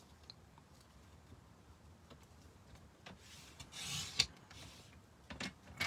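Fabric strips for a patchwork quilt are cut on a cutting track, faint rubbing and scraping strokes with a few sharper swishes toward the end, quiet and close, without talk.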